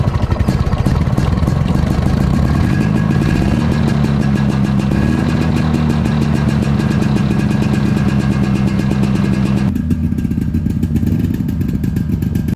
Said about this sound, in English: That unique 2-stroke sound was a delight